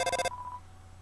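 An in-game phone rings in the Undertale video game, a short burst of rapid electronic trilling that cuts off abruptly, leaving a faint lingering tone and quiet background.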